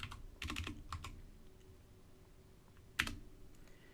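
A computer keyboard is used to type a folder-removal command at a Windows prompt: a quick cluster of faint, close keystrokes, then a single sharper key tap a moment later.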